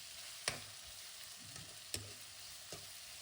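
Chicken and chopped tomato stirred in a sizzling frying pan for Mangalorean chicken sukka: steady frying hiss with three distinct spoon knocks against the pan and softer scraping between them, close and clear with no talk.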